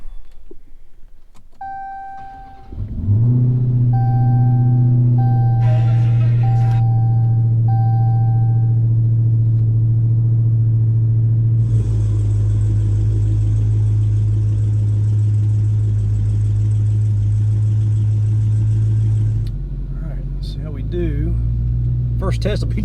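A Dodge Hellcat starts up and idles with a loud, steady engine rumble, then pulls away on a first drive after cradle lockout work, the engine holding a constant drone throughout with a brief dip near the end.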